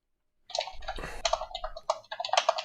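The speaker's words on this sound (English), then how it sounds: "Just typing." Keyboard typing with quick, irregular clicks and clacks from close by, running steadily for a couple of seconds, with one brief louder rustle partway through.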